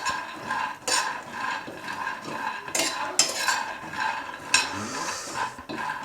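Peanuts roasting in a pan over a low gas flame, stirred with a spatula that scrapes and clinks against the metal, steady rustling with occasional sharper knocks, close and without talk.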